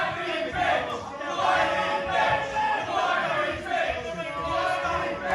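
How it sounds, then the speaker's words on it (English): Wrestling crowd at a Nino Bryant vs. David Francisco match chanting at Francisco, rhythmic massed shouting in repeated swells, loud and filling the space. "Hear the crowd calling Francisco a whiny bitch."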